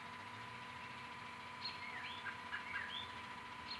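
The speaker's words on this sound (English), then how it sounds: "I just wanted to catch the bird sounds" Birds sing on an April evening, scattered chirps and short whistled calls rising faintly over a steady low hum of background noise, with no voices.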